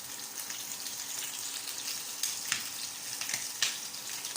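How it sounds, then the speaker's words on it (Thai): Pork belly skin fries in hot oil, a soft continuous sizzle with a few sharper crackles and pops scattered through it, fairly quiet and with no voices. "เราก็จะเอาหนังลงทอดก่อนนะคะ ถ้าไฟแรงไปแล้วก็เบาไฟนะคะ"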